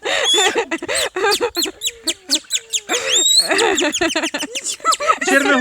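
Artistic whistling played on a green onion stalk, a near, loud run of rapid chirping and warbling bird-like notes with sliding pitches and short pauses, a voice imitating birdsong.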